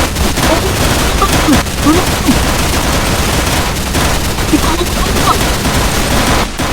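Video game gunfire in Minecraft during a zombie fight, a dense continuous rattle of rapid shots filling the whole stretch.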